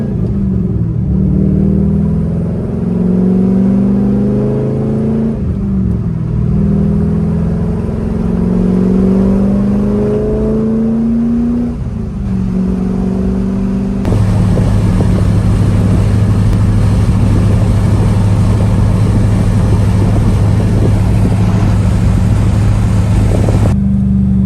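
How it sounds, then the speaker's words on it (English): A Chevrolet Corvette C5 with a front-wheel shimmy at highway speed, heard from inside as it drives on the interstate: a steady loud engine drone with rising gear pulls, then a constant heavy road rumble at speed. "I'm taking the car out onto the interstate right now."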